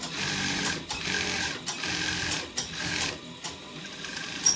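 A sewing machine stitching the inside seams of agbada fabric, running in steady bursts of rapid mechanical whirring with short pauses and clicks between runs, close and fairly loud with no talking.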